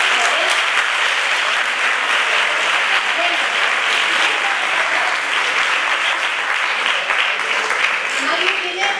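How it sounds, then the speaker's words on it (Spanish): Audience at a talk on women in science breaks into sustained, dense applause, many hands clapping steadily and loudly for the full stretch, with a few voices mixed in under the clapping. "dale un aplauso, ¿no?"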